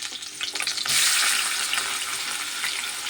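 Eggplant pieces drop into hot oil in a pan on the stove and burst into a loud, continuous sizzle that keeps going strong, close up and without speech.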